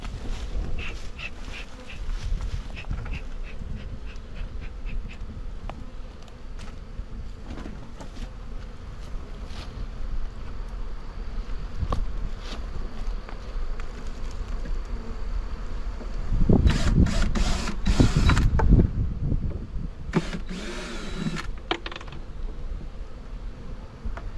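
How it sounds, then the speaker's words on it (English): A captured honeybee swarm buzzes continuously as the bees are shaken from a tree into a box, a steady dense hum with louder thumping and rustling bursts near the end. "we're going to shake the rest of those bees in this box down here"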